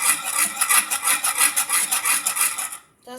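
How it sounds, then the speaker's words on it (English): A metal whisk scrapes rhythmically against a pan, making a loud, harsh, grating sound in quick repeated strokes before stopping near the end. "That's because a whisk and this pan do not go together."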